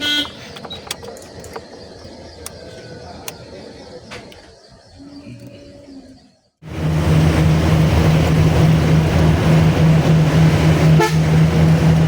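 A truck on the road, with a steady, loud engine rumble and road roar that starts abruptly partway through, after a quieter cab stretch with faint clicks and a brief horn-like toot.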